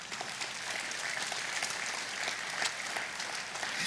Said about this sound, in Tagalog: Pumalakpak nga po tayo.